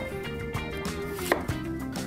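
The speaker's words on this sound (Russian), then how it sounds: "Яблоко мы почистим и нарежем мелким кубиком." A knife dices a peeled apple into small cubes on a cutting board, several soft close chops at an uneven pace over a faint steady background hum.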